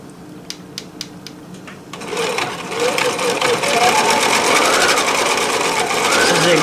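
Husqvarna Viking 980 sewing machine stitching a zigzag pattern, a dense, steady mechanical whir that starts after a few light clicks and runs loud and continuous to the end.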